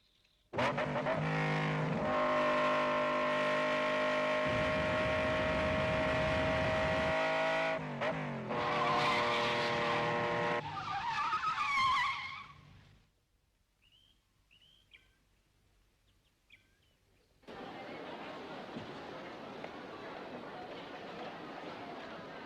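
A car's engine revs loudly with a strong droning tone, shifts pitch, then pulls away and fades to near silence before faint outdoor ambience returns.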